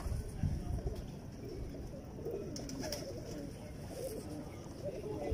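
Champion racing pigeons in a loft coo softly in low, rolling murmurs, with someone talking over them close by.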